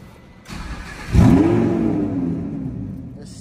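Lamborghini Huracan engine starting up nearby: a starter whir, then a loud rising bark that settles into a steady, slightly falling idle rumble.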